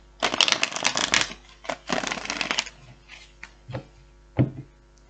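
Tarot cards being shuffled in several quick riffling bursts, close and crisp, with short pauses and a few softer taps afterward; no voices.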